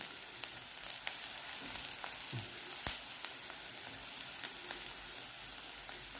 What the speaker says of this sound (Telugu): ఉల్లిపాయలు కొంచెం వేగేయండి